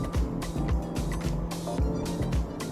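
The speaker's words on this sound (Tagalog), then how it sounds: "now that I mash the throttle to overtake a vehicle" A 2024 Honda CR-V engine is accelerating at full throttle to overtake, heard from inside the cabin as a loud, pulsing drone with a rhythmic low throb.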